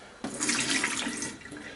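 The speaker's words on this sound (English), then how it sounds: "Let's pour this water away." Water is poured out of a mug into a kitchen sink, a sudden splashing gush that starts sharply, holds for about a second and tails off, close and alone.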